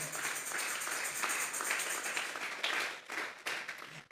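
Church congregation clapping hands together during a worship service, a steady stream of soft, overlapping claps at moderate distance, fairly faint, ending in a sudden louder knock.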